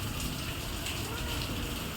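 Steady rain falls in a continuous broadband hiss, with raindrops pattering on a surface nearby, constant and unbroken.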